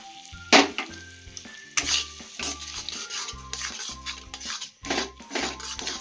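Tomato puree masala gravy for matar paneer sizzles steadily in a pan while a spoon stirs it, with repeated metallic scrapes and clinks against the pan over a constant close frying hiss and no speech.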